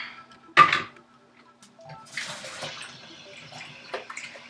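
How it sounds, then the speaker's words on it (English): A sharp clunk, then water splashes and trickles into a pot in uneven bursts, fairly close and without any talking. "Okay, now I'm putting the water in. 6 cups of water."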